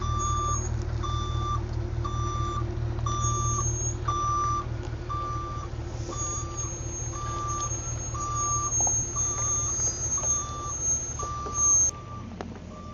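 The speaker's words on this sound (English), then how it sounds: "Big truck backing up right where I set up." A big truck backs up near an outdoor painting spot, its steady reversing beeps repeating about once a second over a loud, low diesel engine rumble, with a brief air-brake hiss near the end.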